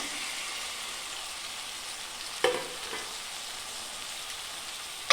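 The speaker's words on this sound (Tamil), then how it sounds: "இந்த தக்காளி நல்லா மைய வேகிற வரைக்கும் வதங்கட்டும்" Two cut tomatoes sauté in a pan for chicken curry, giving a steady close sizzle with a couple of sharp stirring clatters near the middle and at the end, and no talking.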